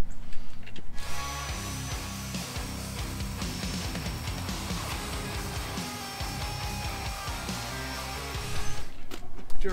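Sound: drill boring into old concrete

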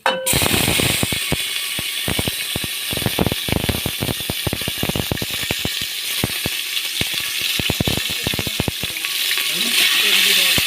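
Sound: tomato and masala paste frying in oil

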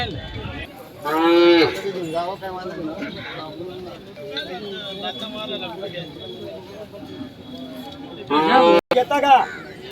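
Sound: bulls mooing at a cattle sale

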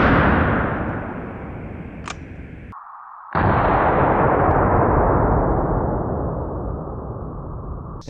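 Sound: gunshots from a .44 Magnum revolver

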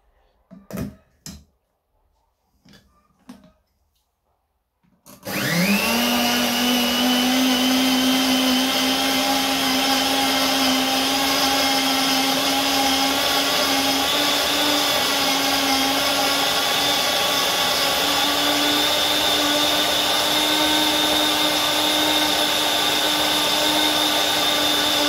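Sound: electric mixer blending honey, oil and apple cider vinegar

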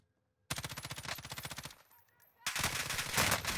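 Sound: gunshots in Call of Duty video game

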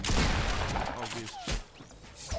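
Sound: gunfire in the video game Fortnite

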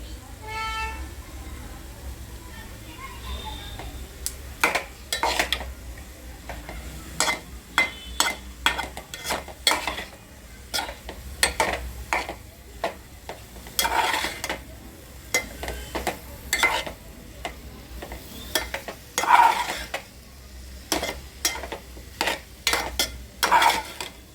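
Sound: potato curry with coriander being stirred in a pan

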